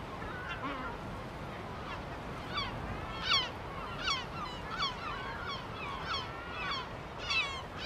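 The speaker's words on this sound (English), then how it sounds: "Gull colonies in the Mediterranean, as anywhere else in the world, are busy, noisy places full of activity" A Mediterranean gull colony calls in a steady chorus of overlapping squawks and cries, some near and sharp, others farther off, over a constant background rumble of wind or surf.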